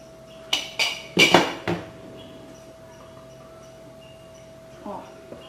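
Metal clanks and clinks from opening a pressure cooker lid in a home kitchen, several sharp knocks in quick succession, then quiet handling noises and a faint clatter.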